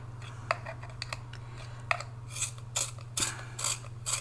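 Close, faint scraping and gritty rasping in short bursts, like a coloured pencil being turned in a small sharpener, over a steady low electrical hum.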